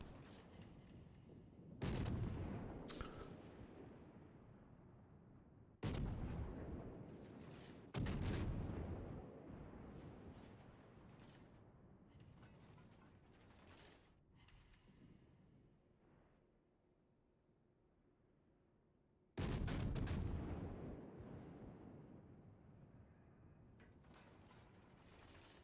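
Heavy naval guns from a Bismarck battleship boom in a naval video game, several loud broadband blasts at irregular intervals over a continuous low background rumble, some blasts paired closely together.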